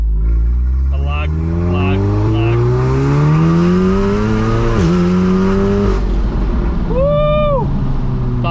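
A 500 bhp Revo-tuned VW Golf R accelerates hard in second gear from low revs, its engine note climbing steadily and loudly close up, with a brief gear-change dip and a whistling turbo or blow-off sound near the end.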